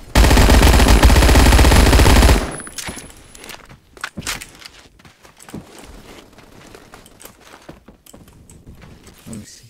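Light machine gun fire in the online shooter Phantom Forces: a dense, loud, continuous burst for about two seconds, then quieter scattered game sounds, footsteps and distant shots.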